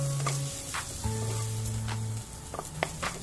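Vegetables fry in a pan for white sauce pasta with a steady close sizzle and crackle, punctuated by brief stirring scrapes and taps, while sustained tonal hums sound faintly in the background and no one speaks.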